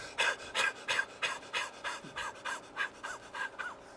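Rapid rhythmic breath of fire from a Kundalini yoga exercise, about a dozen sharp, evenly paced exhalations in quick succession, close and alone, sounding almost like panting.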